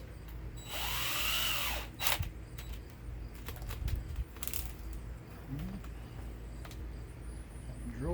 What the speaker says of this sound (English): And we got the hole drilled.